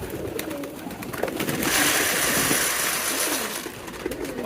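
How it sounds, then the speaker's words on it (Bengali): Pigeons crowd around at feeding time, giving soft, low cooing calls close by against a steady background hum that swells in the middle. "কবুতর বেশি হয়ে গেছে তো আমার পায়ের নিচে চলে আসে সবসময়"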